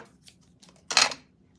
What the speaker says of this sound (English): So I'll cut a small piece of lace